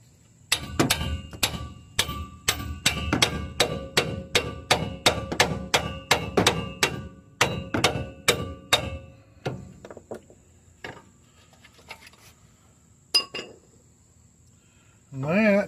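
Metal hammer blows strike a pickle fork wedged at the upper control arm of a 2002 GMC Sierra, a fast, close run of sharp ringing clanks that pauses, then a few scattered knocks follow.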